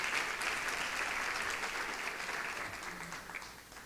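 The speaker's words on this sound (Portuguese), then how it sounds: "Aplauda o Senhor mais uma vez com alegria." A church congregation applauds during a Sunday service. The clapping is steady and even, fairly soft and a little distant, and it slowly fades toward the end.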